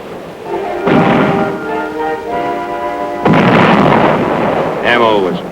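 Heavy artillery fire in 1950 Korean War battle footage, a field artillery battalion firing on tanks: two loud booming blasts land a couple of seconds apart, mixed under a steady musical bed.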